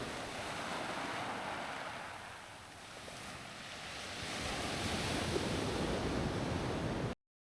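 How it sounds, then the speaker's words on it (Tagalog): Strong ocean waves rolling and breaking in a steady, loud roar of surf with wind noise on the microphone, swelling stronger in the second half before cutting off abruptly, with no voices. "Kasi nga yung alon, lakas."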